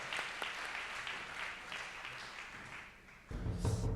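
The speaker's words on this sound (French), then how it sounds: "Alors, on les applaudit tous les 4." Applause at an award ceremony for four housing prize winners, a steady crowd clapping at a moderate distance, then swelling louder near the end.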